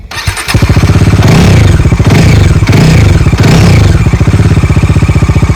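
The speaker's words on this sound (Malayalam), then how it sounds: "ജസ്റ്റ് എഞ്ചിൻ ഒന്ന് സ്റ്റാർട്ട് ചെയ്യുന്നുണ്ട്" A used motorcycle engine catches after a brief cranking rattle and settles into a loud, close, steady idle with an even, rapid thumping pulse that continues to the end.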